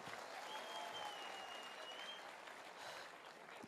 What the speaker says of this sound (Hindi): मैं चाहूंगा एक जोरदार तालियां जरूर हो जाए गुरुदेव के लिए